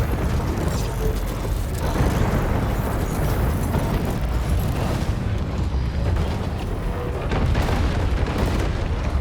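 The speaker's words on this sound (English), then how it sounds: "just fires and missiles everywhere" Missiles launching and explosions rumble continuously in a War Robots Frontiers match, a dense, loud barrage of booms and mechanical clatter with no pauses.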